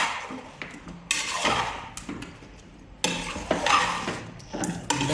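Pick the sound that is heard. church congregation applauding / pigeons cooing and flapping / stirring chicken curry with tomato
stirring chicken curry with tomato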